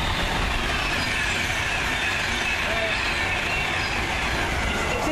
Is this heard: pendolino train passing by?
yes